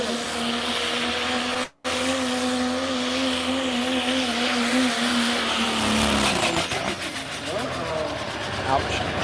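A truck-pulling engine revs up as its turbos spool. A loud, sustained roar climbs and then breaks into a rougher, pulsing drone, with voices talking over it the whole way through.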